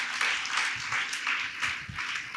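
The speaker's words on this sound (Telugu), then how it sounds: "చప్పట్లు కొట్టి ప్రభువుని మహింపరచండి." A church congregation claps together in praise during a service, a dense, continuous burst of many hands with a slightly uneven rhythm, moderately loud and without talking over it.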